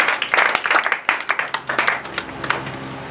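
A church congregation applauding, with a run of irregular, close hand claps that sound brisk at first and thin out toward the end.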